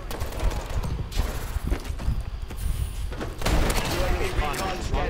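A Blunderbuss shotgun fires in Call of Duty: Advanced Warfare deathmatch play, sharp blasts and game noise sitting under steady excited talk from players.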